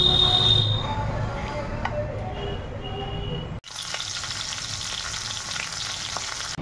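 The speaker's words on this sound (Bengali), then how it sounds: "এখন ডাল ফোড়ন দেবো" Dal being tempered in a wok, spices crackling and frying in hot oil with a dense steady sizzle, cut abruptly midway and resuming brighter, no talk.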